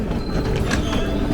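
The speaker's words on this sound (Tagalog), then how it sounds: "So, ito na yung sasakyan naming tren." A train at a track in Osaka station, with loud, continuous rumbling and rolling rail noise, faint metallic squeal on top and a dense low mechanical drone close by.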